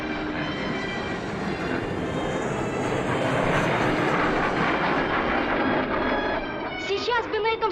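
A propeller airplane drones overhead in a broad, steady roar that swells and holds, with faint tonal sounds emerging near the end.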